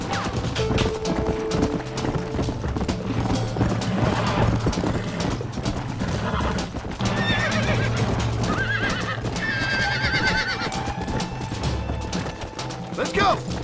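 In the video game Red Dead Redemption, horses whinny loudly over a steady clatter of galloping hooves, with shouting voices and a busy mix of crashes throughout.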